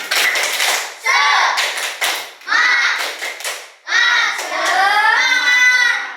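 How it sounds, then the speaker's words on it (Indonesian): A school class performs the tepuk semangat clapping chant, children's voices chanting in bursts with rhythmic hand claps, loud and close, in a few repeated phrases. "Tepuk semangat"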